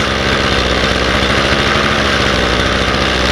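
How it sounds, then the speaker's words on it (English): A Ryobi 2-cycle weed eater fitted with a new carburetor idles steadily, its small engine putting out a loud, close buzzing rattle at an even pace with no voices over it. "But I'm letting it idle just for a little bit because I'm scared."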